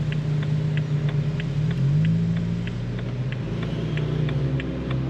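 A Nissan Note Nismo with only a muffler tip pulls away, its quiet exhaust a low, steady engine drone that rises slightly in pitch as it accelerates, faint and smooth with a regular ticking over it.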